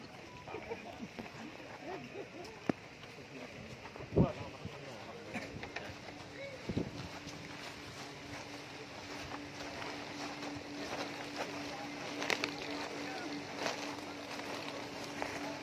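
A waste-processing incinerator in Penggarit village, Taman, starts up partway through, and a steady low mechanical hum settles in and holds beneath a crowd's chatter and scattered knocks.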